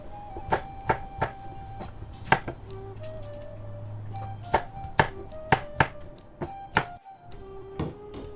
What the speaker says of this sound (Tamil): ஓரளவு சின்ன துண்டுகளாக வெட்டி எடுத்தால் இலவாக அவியும்